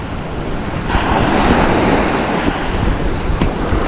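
Ocean waves surge near seaside houses at high tide, a loud, continuous wash of surf mixed with gusting wind noise on the microphone that swells partway through and stays strong.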